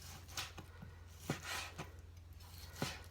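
A knife slices through grilled pork neck on a cutting board, with soft, irregular taps and cuts close by against a low steady hum and no talk.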